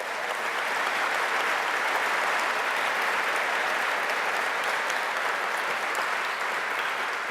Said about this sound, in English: They all deserve a real nice round of applause.